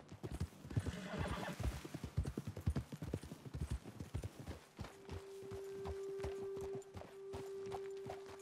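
Horse hooves clip-clop at a steady walking rhythm in the video game Red Dead Redemption 2, up close, fading into a quieter ambient hum with a horse whinnying briefly.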